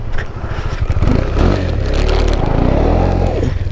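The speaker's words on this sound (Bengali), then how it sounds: "দেখো স্কিট কাটছে চাকা" The rear wheel of a KTM Duke 390 motorcycle skids and scrapes on the ground for a few seconds, loud and close, with a low engine rumble underneath.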